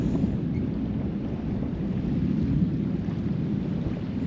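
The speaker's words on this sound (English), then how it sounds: "You can hear the thunder." A low, continuous rumble of thunder during a storm at sea, heard from a sailboat heading south in hurricane season, steady and moderately loud with wind noise blended in and no talking.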